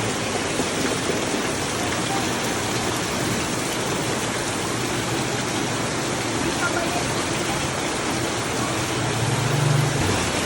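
Dense, steady roar of heavy rain pouring without a break, a continuous loud hiss filling the whole scene.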